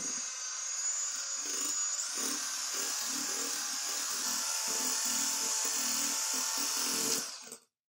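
Frozen custard ice cream ground in an electric grinder, a high steady whine with a rough churning rattle, loud and continuous for about seven seconds before it winds down and stops.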